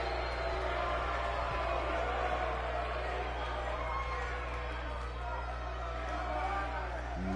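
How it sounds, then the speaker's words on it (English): A Pittsburgh wrestling crowd boos Iceman's entrance, a dense steady roar of massed voices filling the arena, with a continuous low hum underneath and no single voice standing out. "Iceman out to a just chorus of boos here"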